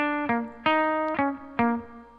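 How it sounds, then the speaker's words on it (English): A reamped electric guitar plays distorted notes through an amplifier, several plucked notes in a slow rhythm, each ringing out with a light reverb tail, with no voices. "you can hear there's a little bit of reverb from the amplifier"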